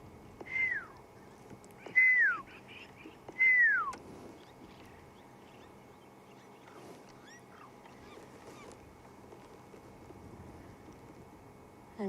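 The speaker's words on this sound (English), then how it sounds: "the calls of the lapwings and a pearl-spotted owlet somewhere in the distance whistling" Three loud descending calls of a pearl-spotted owlet ring out in quick succession, then quieter calls and soft outdoor ambience with faint distant whistles, at sunset in the Sabi Sand reserve.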